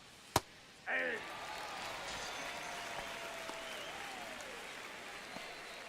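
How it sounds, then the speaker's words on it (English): A sold-out stadium crowd in MLB The Show 25 roars steadily for several seconds after a sharp crack near the start, forming a broad, sustained wash of cheering with some voices in it. "This is like a legit sold out crowd."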